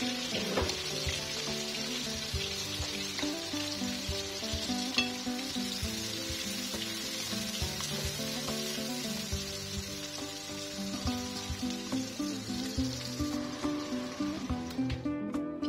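Chopped onions fry in hot oil in a pot with a continuous crackling sizzle, moderately close and steady throughout, with occasional faint stirring scrapes and no talking.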